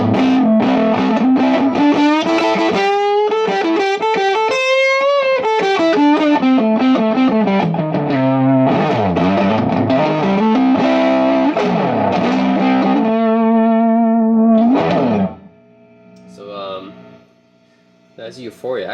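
Electric guitar played through a Wampler Euphoria overdrive pedal: a loud, sustained driven line with bends and chords for about fifteen seconds, then quieter fading tail and a few plucks.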